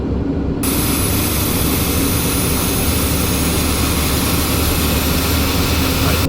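A TBM 850 turbine engine roars steadily at full running speed after starting up, a loud, constant broadband rush with a high whine on top.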